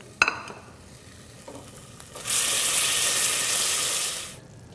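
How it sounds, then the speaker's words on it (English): Chili puree for a coffee coloradito mole hits hot lard in a pan, bursting into a loud, dense, steady sizzle that holds for about two seconds before easing off, after a few soft clinks of utensils. "I'm going to add the chili puree to this. It's going to cook pretty quickly here."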